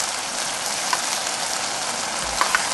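Shallots hit a hot pan for a burger, giving a steady, dense frying sizzle throughout, fairly close, with a couple of faint pops and no talking.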